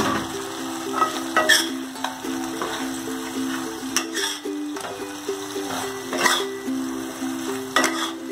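Salted pre-fried fish pieces frying in a pan for dahi katla, a continuous sizzle with repeated scraping and clinking stirring strokes close by.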